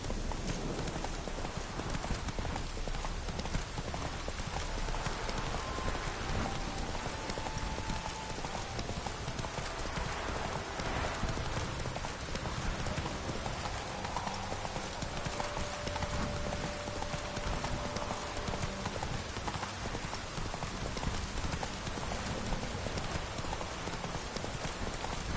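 Hoofbeats of Roach, the horse from The Witcher video game, galloping in a steady rapid clip-clop rhythm over a dense constant background wash, faint tonal music lines threading through.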